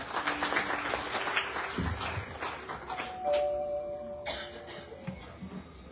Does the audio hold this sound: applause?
yes